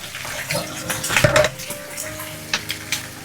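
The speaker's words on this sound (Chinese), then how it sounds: "现在立即倒入五花肉，快速翻炒均匀，让五花肉均匀地裹上糖色。" Pork belly is stir-fried in bubbling caramelized sugar in a wok, with metal spatula scrapes and clanks, sizzling, and a cluster of sharp hits in the middle, close and busy.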